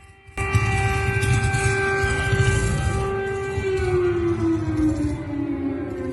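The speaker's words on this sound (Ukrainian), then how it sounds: "Вибухами та сигналами повітряної тривоги сьогодні розбудили російських дипломатів-активісти у Варшаві." An air raid siren wails loud and sustained, its steady tone drifting slowly lower, set off by activists outside the Russian embassy in Warsaw.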